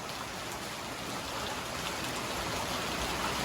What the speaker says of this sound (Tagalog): Yan, malakas ng ulan.